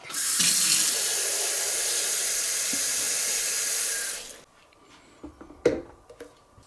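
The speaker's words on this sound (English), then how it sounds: "then we're going to put a little bit of water in" Water pours steadily from a tap into a Vitamix E320 blender jar alongside banana, spinach and mango, a loud hissing splash for about four seconds that then stops, followed by faint clinks and handling sounds.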